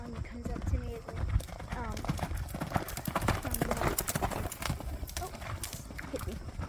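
A ridden horse clip-clops steadily at close range, its hooves striking in an even rhythm, with an occasional whinny and voices murmuring over the hoofbeats.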